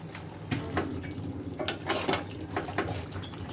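Chicken with spices being stir-fried in a pan during village-style home cooking, with steady sizzling and repeated scraping, clattering strokes of the spatula, close and moderately loud.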